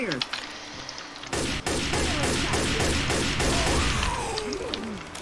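Rapid gunfire bursts and loud shot volleys fill a Left 4 Dead 2 game scene, dense and continuous for several seconds, with brief voices and game effects mixed in.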